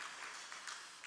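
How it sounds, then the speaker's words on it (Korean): Applause from a church congregation welcoming a member during a Sunday worship service at a Korean Presbyterian church in Vancouver; brief, soft, steady clapping heard from some distance. "우리 최홍석 성도님 좋은 시간 될 수 있도록 우리 박수로 환영하도록 하겠습니다"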